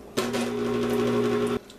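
An electric mixer creaming butter whirs with a constant hum from start to finish, starting and stopping abruptly, close by with no talking.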